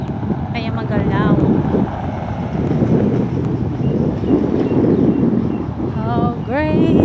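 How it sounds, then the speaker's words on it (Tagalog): Steady blustery wind rumbles against the microphone throughout, with a person speaking briefly in Filipino near the start and again toward the end. "mahangin dito guys"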